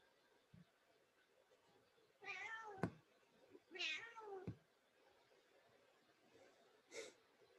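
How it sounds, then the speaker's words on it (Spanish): A kitten meows three times, two drawn-out cries close together and a shorter one a few seconds later, over a quiet room background with a small click near the start. "Una gatita."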